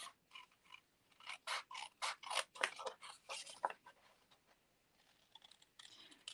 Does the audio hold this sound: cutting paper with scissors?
yes